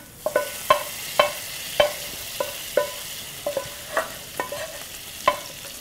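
Prawn remains go into a frying pan over a soft sizzle, while a utensil clinks and scrapes against the metal in a string of sharp, irregular strikes close by.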